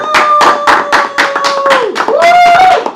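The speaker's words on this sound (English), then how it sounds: "Can we just get a round of applause for DECA real quick?" Short bursts of clapping for a high school club, DECA, rhythmic and fairly near, with a speaking voice running across the claps.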